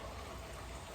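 Rain falls steadily outside a garage where a C6 Corvette sits, a faint, even hiss of drops on surfaces with no voices for the full second.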